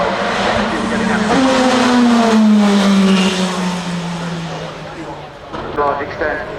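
A hypercar races past at the Goodwood Festival of Speed 2024, its loud engine note falling steadily in pitch as it passes and fades, with a commentator talking over it.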